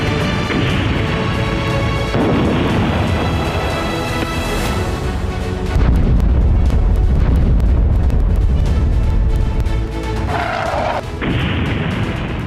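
Aerial bombing explosions in southern Lebanon, heavy crashing booms and blasts layered under a loud continuous rumble, with a sharp impact partway through and a dense, sustained roar afterward.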